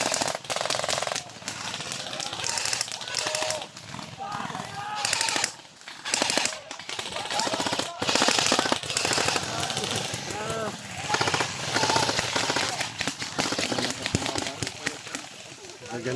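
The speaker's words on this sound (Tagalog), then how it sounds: "Magandang pakinggan ng mga baril." Airsoft guns fire at an outdoor event in rapid bursts and scattered single shots, loud and close, mixed with bursts of shouting and talk throughout.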